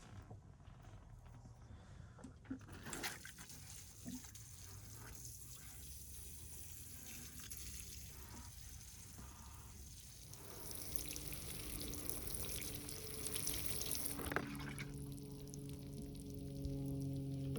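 Water is poured over a ficus benjamina bonsai, a continuous close splashing and trickling that runs for many seconds and grows louder near the end, with no voices.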